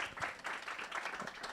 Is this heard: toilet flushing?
no